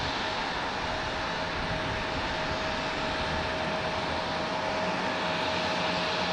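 Delta jet airliner taxiing at Raleigh-Durham International Airport, a steady broadband engine roar with a faint high whine, continuous and fairly distant throughout.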